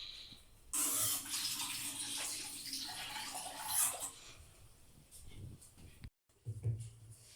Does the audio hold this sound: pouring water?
yes